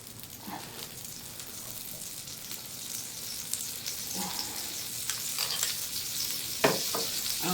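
Ham and cheese panini sizzling steadily in a buttered pan, a continuous close, crackling fry with small pops that grows slightly louder over time, with no talking.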